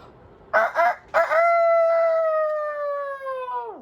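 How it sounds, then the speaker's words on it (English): A loud rooster crow: a couple of short choppy notes, then one long sustained call that holds steady and trails off at the end. "Now, what do you think the rooster's song is?"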